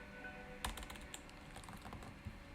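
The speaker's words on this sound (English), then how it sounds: "I type in name equals Devin" Keys clatter on a computer keyboard in a quick, uneven run of light clicks, with one sharper keystroke near the start, close and fairly quiet, with no talk.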